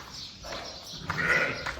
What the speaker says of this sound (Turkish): Bunlar koyunlarımız arkadaşlar.